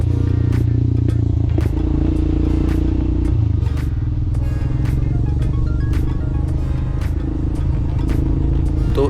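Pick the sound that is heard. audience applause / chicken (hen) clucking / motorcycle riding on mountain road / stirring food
motorcycle riding on mountain road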